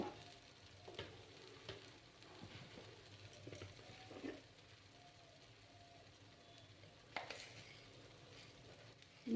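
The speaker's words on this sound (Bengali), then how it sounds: "ভালো করে আমি এটাকে কষিয়ে নেব" Mashed flat beans are sautéed in a pan, a quiet, steady frying hiss broken by occasional soft spatula scrapes and taps, close but faint.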